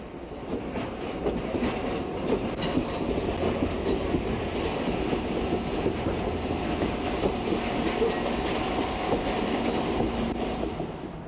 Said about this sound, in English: The train backs into a track in the intermodal yard after successfully negotiating the Y.